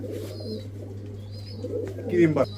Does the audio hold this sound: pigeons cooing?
yes